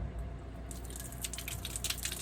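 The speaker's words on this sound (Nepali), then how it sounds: "जहाँ यसरी यो टुटी खोलेर, ट्याप खोलेर" Water runs steadily from an opened tap on a small stone spout in the Serra da Estrela mountains, a continuous splashing flow with soft drips rising after the first moment.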